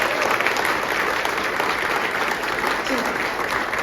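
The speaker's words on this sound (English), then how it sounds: "she deserves a big round of applause" A brief burst of steady audience applause at the opening speeches of LabWest MINEx 2025, a moderately loud, even patter of many hands clapping throughout.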